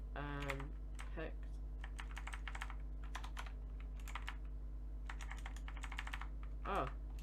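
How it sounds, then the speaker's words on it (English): Computer keyboard typing in bursts of quick key clicks with short pauses between them, close and fairly quiet, with someone speaking briefly at the start and near the end. "I keep typing double letters"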